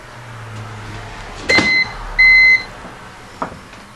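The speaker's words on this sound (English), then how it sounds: "But it's going to start beeping." A PC battery backup UPS running on battery emits two short electronic beeps, the second longer, under a steady room hum, with a faint click afterward.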